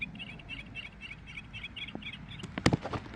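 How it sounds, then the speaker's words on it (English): Yellow-rumped warbler call played by a Wild Republic Woodland Birds Series 2 plush toy: a repeated series of about eight bright, even chirps, followed by louder clicks and handling noise near the end. "Yellow-rumped warbler."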